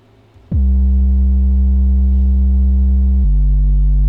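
A single deep 808 bass, pitched down lower, plays by itself: one booming sustained note with a sliding attack, then a step to a second low note, loud, clean and isolated.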